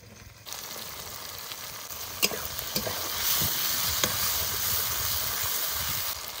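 Chopped potatoes dropped into oil rendered from a big river katla fish hit the pan with a sudden loud sizzle. It keeps frying with a dense, crackling hiss and occasional stirring knocks, with no one talking.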